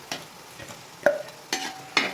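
A spice paste frying in a pan, stirred with four distinct scraping spatula strokes over a faint, low sizzle; fairly quiet and close, with no voices.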